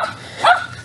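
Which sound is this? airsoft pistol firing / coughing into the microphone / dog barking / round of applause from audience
dog barking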